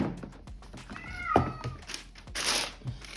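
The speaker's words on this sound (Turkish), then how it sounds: "Bir yandan kedim bağırıyor" A house cat meows once, a drawn-out cry with a falling tail, at moderate loudness indoors among light handling clatter, with a brief hissy rustle afterward.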